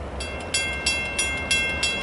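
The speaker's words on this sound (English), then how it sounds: "The next outbound Metra train from Chicago is now arriving." An outbound Metra commuter train from Chicago rolls into a station at Elgin's National Street with a regular rhythm of rail clacks, about one every third of a second, over a low rumble and a faint steady whine.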